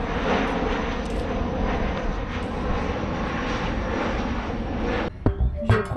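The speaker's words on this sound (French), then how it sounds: "C'est American Airlines qui va atterrir à Key West." An American Airlines airliner landing at Key West produces a steady, loud engine roar that holds for about five seconds and then cuts off abruptly into brief quieter outdoor sounds.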